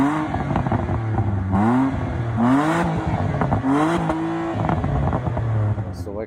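A BMW E90 with a full straight-pipe shotgun exhaust revs repeatedly nearby, each loud throttle blip rising in pitch and then falling back to a rough, burbling idle.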